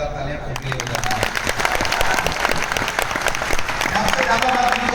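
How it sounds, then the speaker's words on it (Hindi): Audience applause fills a motivational speech event, dense clapping from a large seated crowd running steadily throughout, loud and close, with voices calling out over it. "एक बार जोरदार तालियां"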